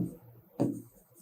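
Pen strokes writing out a Class 8 maths problem on direct and indirect variation, two brief scratchy bursts close by, the second sharper, with quiet pauses between.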